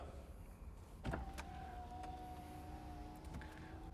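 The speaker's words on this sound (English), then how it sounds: "One of the main features of this car is, of course, the convertible roof. So let's put it up." An electric motor hums steadily as a Mercedes-AMG SL 73's convertible roof moves up, with a few mechanical clicks and clunks along the way; fairly quiet, with no talking.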